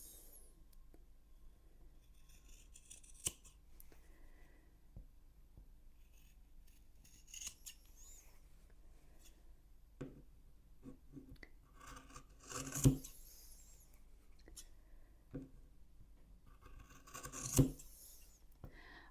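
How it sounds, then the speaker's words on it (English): Scissors snip away the corners of sewn fabric in a quiet, close setting: sparse soft rustles and a few small crisp cuts, two louder snips standing out near the end, with no talking. "Now you're going to go to the corners and you're going to cut the corners away"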